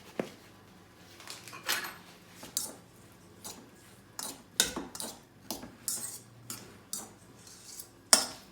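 Cutlery taps and clinks against a bowl in a steady series of sharp strokes as ingredients are mixed before cooking, close and fairly quiet with no talk.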